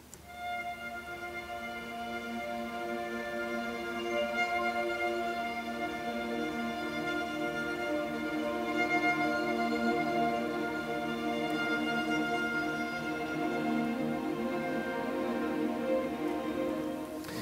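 Evolving sustained string textures from a Spitfire Audio Olafur Arnalds sample library play as a dense, shimmering harmonic pad, swelling gently over about seventeen seconds with no voices.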